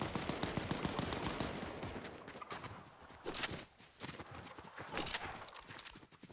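Fortnite gunfire crackles in scattered bursts of sharp shots, some rapid and clustered, mixed with footstep-like thuds at moderate, uneven loudness.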